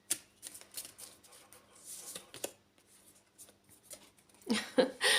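A deck of oracle cards is shuffled by hand, with soft irregular riffles and flicks up close, ending in a louder burst of rustling.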